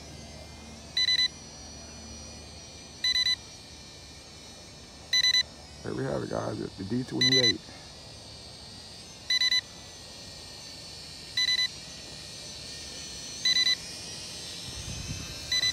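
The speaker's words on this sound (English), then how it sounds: "They should not have put this beeping on the controller." Short electronic beep bursts from a Tomzon D28 camera drone controller repeat about every two seconds throughout, with someone talking briefly in the middle and a low rumble near the end.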